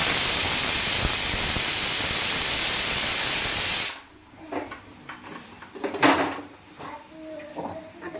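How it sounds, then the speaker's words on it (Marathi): A pressure cooker on a gas stove, cooking a simple tomato and brinjal curry, vents steam in a loud, continuous hiss for about four seconds and then cuts off abruptly, followed by quieter clinks and kitchen handling noises. "आता फक्त एकच शिट्टी राहिली."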